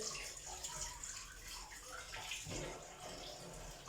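Hot water runs steadily from a tap over fish being washed, a soft continuous splashing hiss throughout, fairly faint and without speech.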